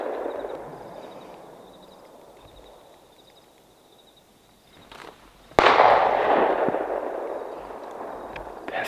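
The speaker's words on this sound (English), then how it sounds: "That's a pistol." Pistol shots ring out at night on a rural ranch: one sharp crack near the middle, then a louder close report with a long echoing decay, over faint nighttime background.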